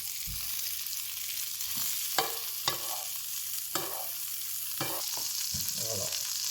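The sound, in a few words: searing courgette flower and prawns in a pan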